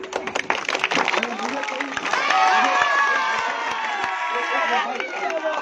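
Crowd clapping and cheering at a late-night street-corner election rally, scattered sharp claps giving way to a dense sustained roar of applause and shouting voices.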